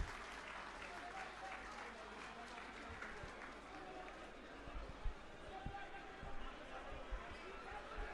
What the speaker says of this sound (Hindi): आतिशी जी के लिए जोरदार तालियां।